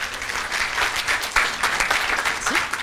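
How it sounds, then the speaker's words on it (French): An audience at a conference gives a loud round of applause, a dense continuous patter of many hands with some sharper nearby claps standing out. "On peut l'applaudir quand même."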